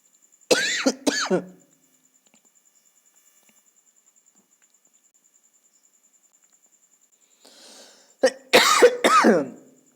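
A person coughs and clears their throat in two short bursts separated by several seconds of near silence, close to the microphone.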